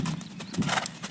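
Hooves of a gaited horse drum rapidly in an even, rolling beat during a hand gallop, close and moderately loud, with no talking.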